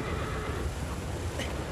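Horse whinny in the video game Shadow of the Colossus, a brief neigh rising near the end over a dense, steady wash of game ambience, fairly faint and with no talk.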